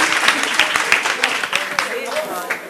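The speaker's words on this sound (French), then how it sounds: "On applaudit." An audience at a university debating competition applauds after the scores are announced, with sharp clap transients mixed into a crowd of voices talking over them.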